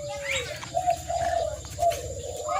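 Soft, repeated cooing of a zebra dove held in the hand, close by, in a rhythmic series of gentle notes over low background noise.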